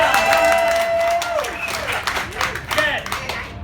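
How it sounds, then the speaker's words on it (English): An audience at Snaphappen, a Snapchat conference, claps in a lively burst mixed with whoops and cheering voices, loud at first and thinning out over a few seconds. "Clap or something."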